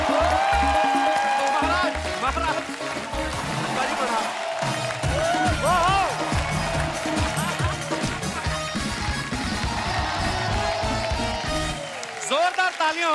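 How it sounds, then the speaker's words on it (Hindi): A studio audience at a comedy talk show applauds to welcome actor Anupam Kher, clapping loud and close throughout under music, with voices cutting in. "जोरदार तालियां हो जाए अनुपम सर के लिए"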